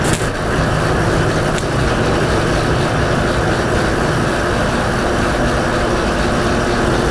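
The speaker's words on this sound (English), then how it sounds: "Now our metering augers will run." Metering augers on a Bourgault X30 and 7000 air seeder run with a loud, steady mechanical drone and rumble, unbroken and close, with no voices over it.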